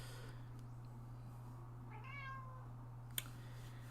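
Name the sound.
pet cat meowing near the microphone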